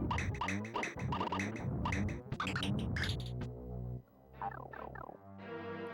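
Old platformer game audio with an annoying bird, squawking gobble-like calls in rapid bursts over bouncy game sounds, pausing briefly before a few more calls return.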